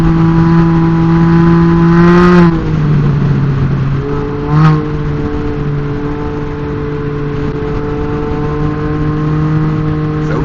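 A Can-Am Ryker 900 with aftermarket intake and exhaust drones loudly and steadily at cruising speed, its pitch dipping briefly as the rider shifts or eases off before settling again.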